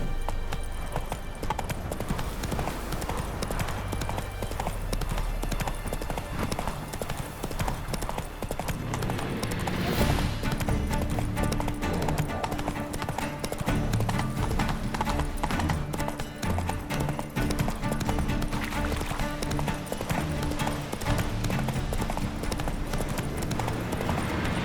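Roach, Geralt's horse in The Witcher 3, gallops with a continuous, rhythmic drumming of hooves over a long ride, steady and close, blended with ambient game sound and music.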